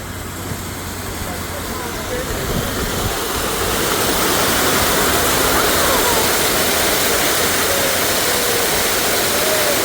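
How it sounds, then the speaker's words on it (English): Water flowing steadily in a continuous broad rush that swells slightly after the first few seconds, with speech faintly mixed in. "that 65-degree water is flowing towards you"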